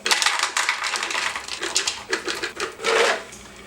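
Pecans poured into a measuring cup while making sourdough bread with craisins and nuts, giving a dense run of small hard rattling clicks and clatters, close and steady for several seconds with brief surges and no talking.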